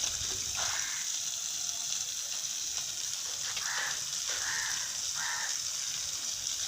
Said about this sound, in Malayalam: വെള്ളം കളയല്ലേ, ടാപ്പ് അടച്ചേ